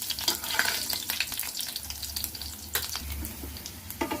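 Cumin seeds and garlic crackle and sizzle in hot oil, a steady close frying hiss with sharp spits and pops throughout, for a Hyderabadi tomato chutney.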